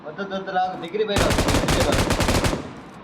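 Bursts of rapid automatic gunfire from the PUBG video game, loud and dense for over a second after a stretch of quieter game sound, with players' voices faintly underneath.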